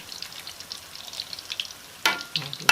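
Jackfruit and banana fritters fry in hot vegetable oil, giving a continuous crackling sizzle with scattered pops, plus a sharper burst of bubbling near the end.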